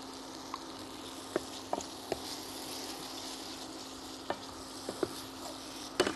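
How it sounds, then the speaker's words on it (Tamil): Onions sautéing in a pan, a faint steady sizzle with occasional soft clicks of a spoon stirring, alone and quiet under a constant low hum. "இது ஒரு 3-4 நிமிஷம் ஆகும் வதக்கிறதுக்கு"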